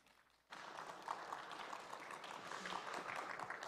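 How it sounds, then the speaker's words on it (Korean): Sudden burst of audience applause at a Democratic Party convention in Jeonbuk, steady dense clapping from a large crowd in a hall as the party leader takes the stage. "대표님 무대로 올라오시면 뜨거운 박수 한번 부탁드리겠습니다."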